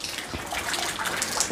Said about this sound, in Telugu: ఇప్పటికే వాన పడతానే ఉంది